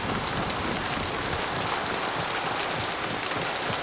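Rain in the game Mass Effect 2, a dense, steady downpour hissing over surfaces, loud and even throughout with no talking.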